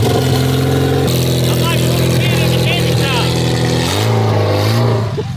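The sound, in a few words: truck engine started and revving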